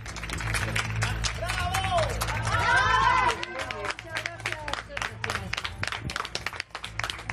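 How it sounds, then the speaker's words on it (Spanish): Neighbours clap in a street outside a closed-down drug den, a sustained crowd of sharp, uneven handclaps with overlapping voices and chatter, swelling briefly before continuing steadily. "todos los vecinos que aplauden definitivamente el cierre de ese local"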